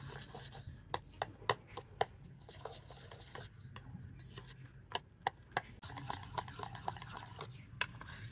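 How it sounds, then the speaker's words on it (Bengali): A jackfruit batter mixed with powdered milk is stirred in a bowl, with repeated sharp clinks and taps of the utensil against the sides over a soft scraping swish, fairly quiet and irregular. "আর আবারও আমি ভালো করে মিশিয়ে নেব সব কিছু।"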